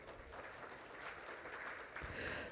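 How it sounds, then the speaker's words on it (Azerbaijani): An audience applauds steadily to welcome a panel moderator at a business forum, a dense, moderately loud wash of clapping that holds throughout and swells slightly toward the end. "Günay xanımı alqışlarla dəvət edək."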